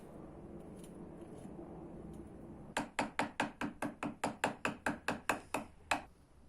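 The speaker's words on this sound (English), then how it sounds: "Even thick brass plate can be forged if it's softened." A hammer forges a thick, softened brass plate into a katana-style handle fitting. After a quiet start, about fifteen sharp metallic strikes land at a steady, even rhythm, loud and close, with no talk.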